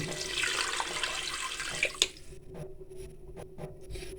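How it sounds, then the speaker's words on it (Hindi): About a liter of water is poured into a cooking pot while making Arabic harees, a steady splashing stream for two seconds that stops abruptly, leaving a few quiet drips. "तकरीबन इसमें 1 लीटर पानी शामिल करेंगे"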